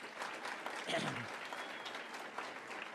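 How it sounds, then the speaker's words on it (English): Audience applause at a Southern Maryland regional cabinet meeting hosted by a volunteer fire department, soft and steady clapping from a room of people heard at a distance for a few seconds. "Give them a round of applause."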